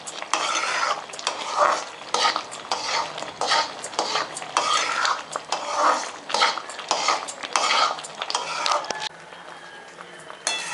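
Rava kesari being mashed and stirred in a pot, a steady run of scraping, clinking spoon strokes against metal, close and fairly loud, with a faint sizzle underneath and no talking.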